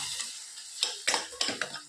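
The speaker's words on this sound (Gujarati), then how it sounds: "સરસ બધું મિક્સ કરી લઈએ" A spoon stirs coriander-cumin powder, garam masala and salt into an eggplant and potato curry over sizzling oil, sharp clinks of metal against the pan punctuating the soft, continuous frying hiss.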